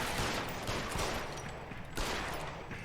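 Gunfire in the video game L.A. Noire, a dense, continuous fusillade of shots with a couple of sharper cracks, loud and steady throughout with no talking.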